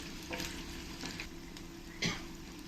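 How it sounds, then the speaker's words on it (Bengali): Chicken pakoras deep frying in hot oil, a soft continuous sizzle with a few brief stirring clinks, faint and close, no talk. "দেখো চিকেনের পকোড়াগুলো এরকম করে লাল লাল করে ভেজে নিতে হবে,"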